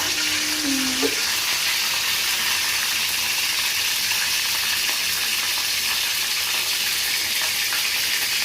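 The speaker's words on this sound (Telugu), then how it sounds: "వేసినా కదా ఎల్లుల్లిపాయలు, కరివేపాకు, ఆవాలు, ఎండుమిర్చి, మెంతులు, జీలకర్ర అవి వేగిన తర్వాత" Garlic, curry leaves, mustard seeds, dried chillies, fenugreek and cumin sizzling in hot oil in a pan, a steady crackling fry throughout with a brief whistle-like tone near the start.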